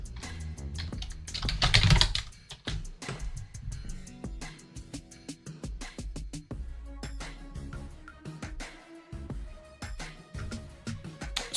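Clicky keystrokes on a computer keyboard, quick irregular taps with short pauses, a brief louder clatter near the start, heard close and alone.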